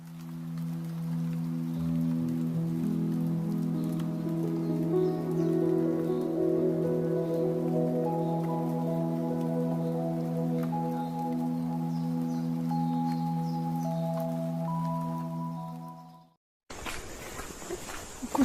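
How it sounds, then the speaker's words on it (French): Rain falls steadily in a New Zealand forest, heard from under shelter as a continuous, even patter beneath a droning background tone, before an abrupt cut to a brief burst of broader noise. "Au moins là, on est à l'abri de la pluie. Il tombait plus que quelques gouttes"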